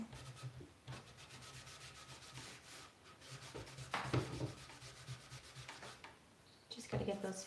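A painted wooden nightstand is sanded by hand in short, rhythmic scratchy strokes, close and quiet, with brief pauses between bursts and a few louder rubs near the end.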